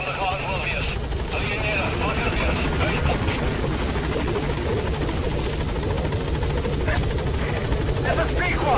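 Pequod, the helicopter in Metal Gear Solid V, holds a steady, loud rotor drone from start to finish, with radio voices talking over it.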